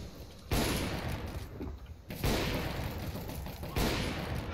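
Gunfire in a shooter video game comes in three loud, dense bursts, each starting abruptly and sustaining as rapid overlapping shots, with no talk.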